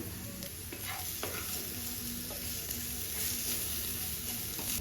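Curry leaves, salt, chilli powder and ginger-garlic paste fry in hot oil for rava idli with a constant close sizzle and a few light stirring clicks.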